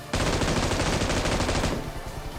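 A loud, close burst of rapid automatic gunfire in PUBG Mobile knocks down an enemy, lasting about a second and a half before cutting off into fainter game ambience.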